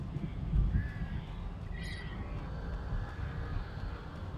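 Crows caw in the video game Alan Wake, a few harsh calls at moderate distance over a low rumbling ambient background, with no talk.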